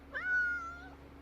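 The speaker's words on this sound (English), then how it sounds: "What are you doing, kitten?" One soft, high meow from a small cat, close by and fairly quiet, over a low steady hum.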